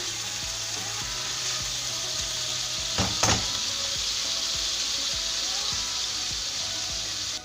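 Cooked meat seasoned with barbecue salt sizzles steadily in a pan, with a couple of louder scraping stirs around the middle and soft clicks scattered throughout.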